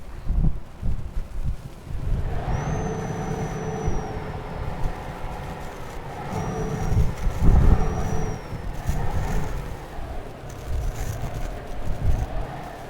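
A low truck engine in the Euro Truck Simulator 2 game rumbles steadily with shifting revs, a faint rising whistle over it, no talking.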